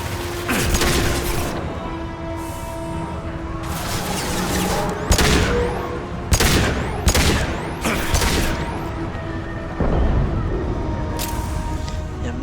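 Gunfire in a Mass Effect 2 firefight on Insanity difficulty, loud booming shots and bursts arriving in irregular clusters with sharp impacts, leaving short gaps between volleys.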